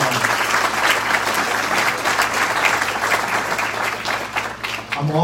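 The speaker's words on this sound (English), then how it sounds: "You deserve a big round of applause" An audience at a community safety meeting gives law enforcement a sustained round of applause, dense clapping filling the room steadily for several seconds before easing slightly at the end.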